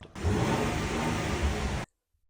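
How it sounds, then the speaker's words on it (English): Exhaust of a 2026 Nissan Armada NISMO, a short loud burst of engine and exhaust roar that holds for under two seconds and then cuts off abruptly to silence. "the exhaust sounds really nice. I'll play some sound clips so you can hear what sound"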